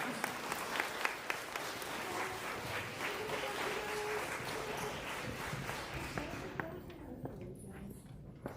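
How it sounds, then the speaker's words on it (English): An audience at a fifth grade school farewell applauds, a dense, sustained clatter of many hands that stays steady for several seconds before thinning and fading out toward the end, with some talk mixed in. "Let's hear one more round of applause for Mr. Hennings."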